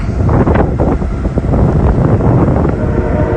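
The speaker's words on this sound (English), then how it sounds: "Sorry for that wind noise." Loud, continuous wind buffeting a microphone, a constant low rumble with gusty swells throughout and no voices.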